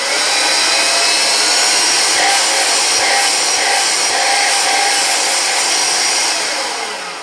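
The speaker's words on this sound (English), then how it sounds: "I'll see if it makes a difference to the suction with boost." A Vax Air Cordless Duo upright vacuum cleaner runs on boost with a loud, steady whining roar close by that holds constant and then starts to wind down at the end, no voices.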